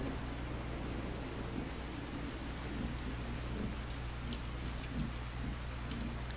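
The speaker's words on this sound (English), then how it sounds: "It's a bloody storm going on." A rainstorm in Fallout 4 keeps up a continuous loud wash of falling rain, with low rumbling underneath that may be thunder, and no talking over it.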